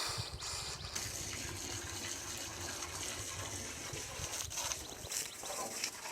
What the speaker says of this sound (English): So we'll run this hose into the outgoing pipe, and that's how we'll do our water test.